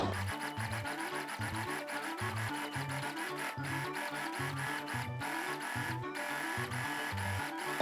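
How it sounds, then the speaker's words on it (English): Sewing machine stitching around the circumference of a drawstring bag, a continuous rapid mechanical chatter with rhythmic thumping pulses, steady and close throughout. "just sew along the circumference like this"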